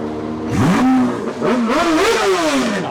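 A motorcycle at a UK car show in Bridgend revs hard twice, its engine pitch sweeping up and falling back in loud, close bursts over a low idle rumble, with no talk.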